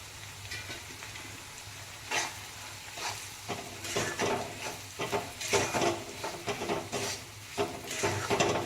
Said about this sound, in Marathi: पुन्हा आपल्याला एकदा यामध्ये रवा छान पद्धतीने फ्राय करून घ्यायचा आहे